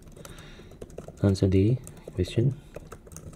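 A computer keyboard clicks softly and irregularly while someone types, under a short stretch of close speech.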